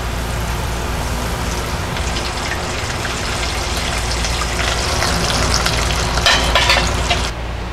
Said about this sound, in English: Now that I'm all done frying my mozzarella risotto balls